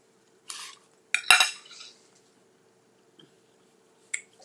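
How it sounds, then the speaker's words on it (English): Metal utensils clink and scrape against a pot in a few short bursts, with one busier stirring flurry, then a faint tap and a last brief clatter in an otherwise quiet kitchen. "I'm about to stir"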